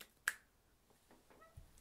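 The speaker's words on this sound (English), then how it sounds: "So we're going to be doing the one-handed clap." A single sharp finger snap, close and crisp, followed by a few faint soft noises in an otherwise quiet space.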